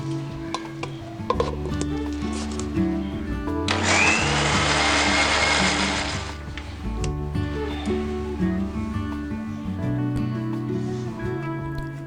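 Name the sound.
mixer grinding coriander, garlic and green chili paste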